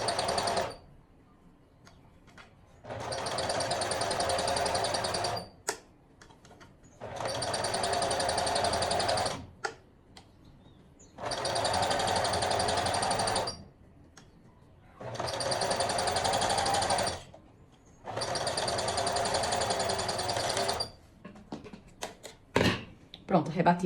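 A sewing machine topstitches the lining seam of a garment for a matching set in five separate bursts of steady whirring stitching, each a few seconds long, with pauses and handling clicks between.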